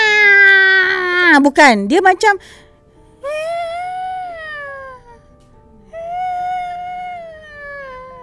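A voice imitates a ghostly wail that rises and falls like a crying baby or fighting cats, in three drawn-out, strained howls close to the mic, with brief speech mixed in.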